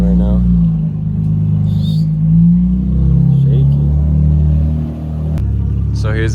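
An Infiniti Q60 with a 600 horsepower engine rolls into a gas station, its low engine rumble steady and close, rising slightly midway, while people talk over it.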